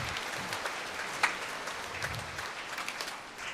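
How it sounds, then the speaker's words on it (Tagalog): A Filipino congregation at an evening Mass claps loudly and continuously, a dense wash of many hands with a few sharper individual claps standing out. "Pumalakpak ng malakas."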